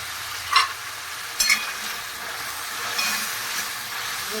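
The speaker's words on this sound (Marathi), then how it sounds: "चांगलं दहा मिनटं परतून द्यायचं म्हणजे टमाट्याचा आपण आता गाळ होऊन जातो" Chopped tomatoes with turmeric sautéing in a pan, giving a soft continuous sizzle with a few brief clinks and scrapes of a spoon, close and fairly quiet, no voices.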